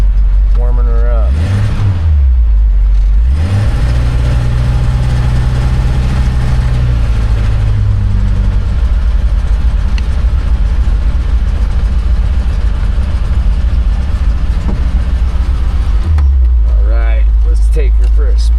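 A rebuilt Suzuki Samurai trail rig warming up, its engine idling loud and close with a rough, steady rumble, with a couple of rising and falling revs at the start and another near the end.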